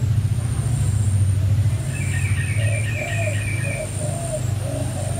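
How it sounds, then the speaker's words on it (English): Pigeons coo in a repeating soft rhythm alongside light chirps, over a low rumble of passing traffic, in Bali. "You can hear the birds singing."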